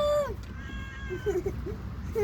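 A cat meows several times up close, loud drawn-out cries rising and falling, followed by shorter chirping mews over a low background rumble.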